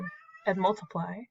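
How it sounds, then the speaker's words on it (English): A house cat meows close by in two drawn-out, wavering calls while a person speaks briefly alongside it. "You can hear my cat right now."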